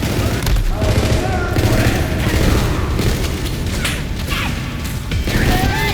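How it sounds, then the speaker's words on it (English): Gunfire and booming shots in the video game Borderlands 3, dense and loud throughout, with thuds and mechanical clatter, and voices talking over the combat. "Going in for the shot!"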